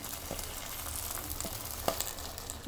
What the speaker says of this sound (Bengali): ভাজাটা ভালো মতন ভেজে নিতে হবে।